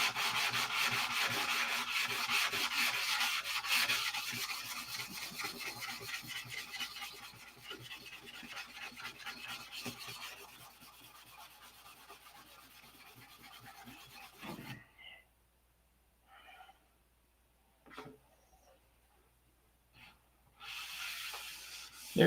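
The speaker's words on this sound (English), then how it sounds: "Can't go too far. I'll be sanding into the paper." Hand sanding on the paint of a P-47 aircraft, a steady rasping rub of repeated strokes for about fifteen seconds, then a quiet gap with a few brief scrapes and a final burst of rubbing.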